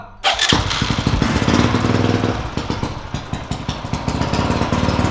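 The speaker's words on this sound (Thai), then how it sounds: "พอมันดับแล้วติดเครื่องง่ายหรือเปล่าฟังนะ" A Honda Wave motorcycle engine cranks and catches, then settles into a rapid, buzzing, uneven idle that runs close and loud for several seconds, with no talking over it.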